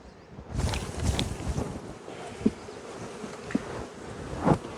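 Honey bees shaken off a brood frame into a queenless nuc fill the air with a close, wavering buzz, swelling and fading as individual bees pass near the microphone, with a few soft knocks of handling and light wind noise.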